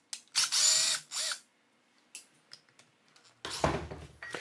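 A power drill backs Phillips head screws out of a Torq 10 FX polisher during a teardown. Two loud, close whirring bursts are separated by quieter clicks and handling noises.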